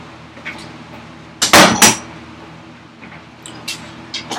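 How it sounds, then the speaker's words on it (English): Chisel strikes on wood while shaping vise chops during a cordless workbench build, heard as a close, sharp cluster of two or three loud knocks, then a few fainter taps. "this is easy enough where I can chisel it down"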